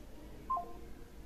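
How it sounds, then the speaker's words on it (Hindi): A phone call to ride-hailing company support is hung up with a short pair of electronic beeps, quiet and alone over faint line hiss. "मैं फोन को काट रहा हूँ"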